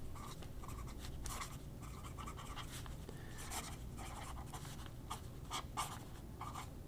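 A Leonardo fountain pen with a steel nib scratching across paper in short close strokes, quiet and rhythmic against a soft background hiss.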